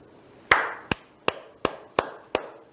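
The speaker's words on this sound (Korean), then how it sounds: "감사의 박수 보내십시다." Six sharp, separate claps ring out close by at a slow, even pace about every half second, each a crisp, loud smack with a short decay, as thanks is given to a couple during a gathering.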